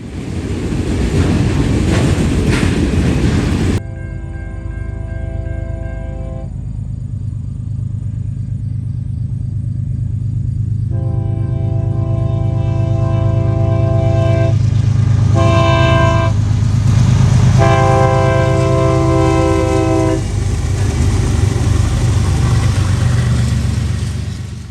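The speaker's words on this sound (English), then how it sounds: "178 heads eastbound at Spring Valley Road, just east of London." Norfolk Southern freight train 178 rumbles past eastbound at Spring Valley Road near London, Ohio, its loud multi-tone horn blasting in several long and short calls over the heavy continuous roar of the passing train.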